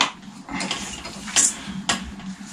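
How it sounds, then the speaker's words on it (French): A Chinese-made ceramic bicycle bottom bracket is unscrewed to pull out the crankset, giving a dry ratcheting, grinding turn with a couple of sharper metallic clicks, close up and alone. "on dévisse pour extraire le pédalier"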